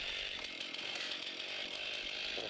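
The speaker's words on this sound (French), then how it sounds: "vous pourrez démarrer sécuritairement votre tronçonneuse en enclenchant le frein de la chaîne" A chainsaw engine runs loudly and continuously after a safe start with the chain brake engaged during manual tree-felling training, a dense buzzing roar with slight fluctuations in pitch.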